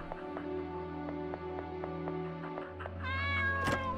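A cat meows in an RPG Maker video game, one clear drawn-out meow rising near the end over a looping melodic game tune with regular plucked notes.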